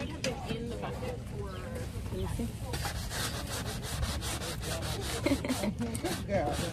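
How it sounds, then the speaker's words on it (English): Steady rasping and rubbing from a wooden bench being sanded by hand, continuous and close, with people talking over it. "we just finished sanding down the bench"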